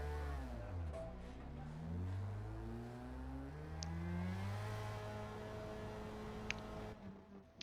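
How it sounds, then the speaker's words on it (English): A Formula Mazda open-wheel racer's engine in Forza Motorsport at Daytona Sports Car Circuit, revving up through repeated gear changes with rising harmonic whine, steady and fairly quiet, with faint clicks and no talk. "as we get ready to head out in our 5150 Mazda, Formula Mazda, little open wheel racer"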